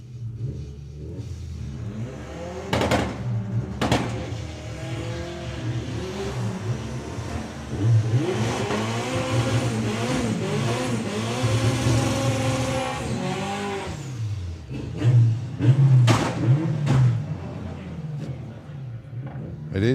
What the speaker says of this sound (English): with a little Lupo, and it's Kaz Waterhouse with the Audi TT.